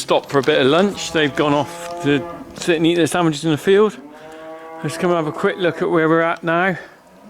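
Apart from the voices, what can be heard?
cow mooing after its calf was weaned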